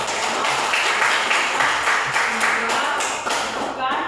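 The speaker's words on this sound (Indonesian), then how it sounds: "Oke, tepuk tangan." A classroom of students claps in a loud, rhythmic pattern of repeated bursts, close and sustained for several seconds before breaking off.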